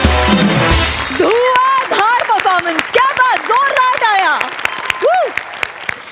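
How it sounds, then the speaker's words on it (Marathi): A brief burst of audience applause after a comedy performance on a stage show, loud and close at the start, then giving way to cheering, whooping voices. "जोरदार टाळ्या"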